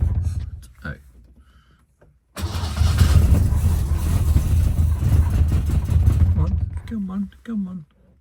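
A 1970 Lancia Flavia Milleotto Berlina on a Solex PAIA 32 carburettor coughs, then catches and runs for about four seconds with a rough, loud, uneven idle before cutting out; voices talk before and after.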